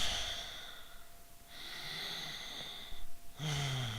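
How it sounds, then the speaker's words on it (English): Deep, full belly breaths during a moderate yoga class, slow inhales and exhales rising and falling close up, with a soft snort-like draw at the end and no talking. "Full deep belly breaths."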